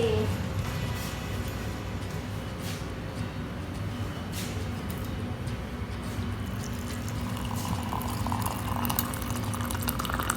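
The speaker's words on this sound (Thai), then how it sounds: "หลังจากนั้นก็ไปเติมน้ำร้อนกันเลย" Hot water poured onto ground coffee as a steady, continuous liquid pour and trickle with a bubbling, filling character, fairly close and even in loudness from start to finish.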